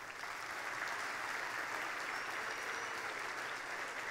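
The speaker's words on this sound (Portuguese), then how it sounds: "De novo, a salva de palmas para o coral infantil." A church audience applauds a children's choir during an evening prayer-week service, a dense continuous clapping that stays steady and fairly loud throughout, with no speech over it.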